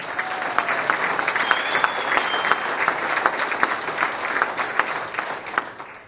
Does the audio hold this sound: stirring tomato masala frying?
no